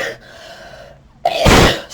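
A single loud sneeze bursts out near the end, preceded by a quick sharp inhale and a short quiet gap, set against a faint room hum.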